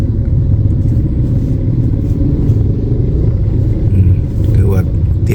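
Heavy road traffic jam along a market area at Lak Paet market in Laos, a steady, loud rumble of idling and creeping car engines filling the whole stretch with no pauses.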